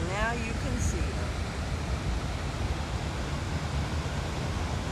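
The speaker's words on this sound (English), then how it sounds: "we'll check out this waterfall real quick" A waterfall in the middle of Rochester, New York roars as a steady broadband rush of falling water, loud and constant throughout, with a brief voice at the very start.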